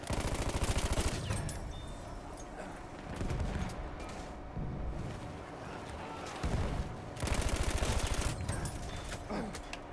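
Gunfire from a gun in the video game Battlefield 1: loud, dense bursts of rapid shots come in several close waves separated by brief lulls, with rumbling battle noise around them.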